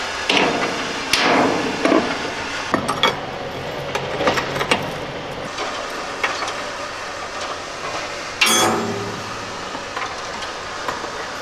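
A hammer striking a rusted nut on a truck trailer air fitting in the woods, a series of sharp metallic blows at irregular intervals, one louder strike near the end, over steady background rumble.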